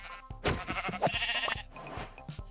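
Sheep in the video game Minecraft bleat several times in quick succession, close and loud, with short wavering cries overlapping one another.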